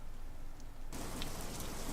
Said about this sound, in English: I love how fluid that raindrop effect looks